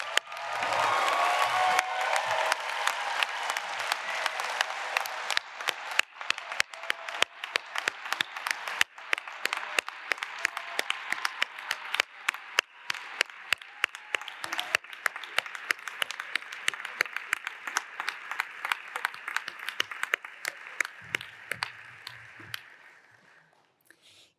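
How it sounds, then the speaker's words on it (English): Large graduation audience at the DigiPen Institute of Technology 2022 commencement applauding the graduates, a full roar of clapping that slowly thins into scattered individual claps and fades out. "Join me in giving a round of applause for all of our graduates."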